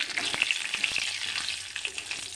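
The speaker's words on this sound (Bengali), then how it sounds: "ঘি দিয়ে দিয়ে দেব দুটো তেজপাতা একটু গরম গোটা গরম মশলা এটা হালকা গ্যাসে ভাজবো" Whole garam masala and bay leaves fry in ghee over a low gas flame, a soft continuous sizzle with crackles and a few light stirring taps close at hand.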